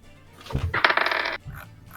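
A single die is rolled across a tabletop during a Dungeons & Dragons game, giving a short clattering rattle of bounces and tumbling that settles within about a second, with faint voices before and after.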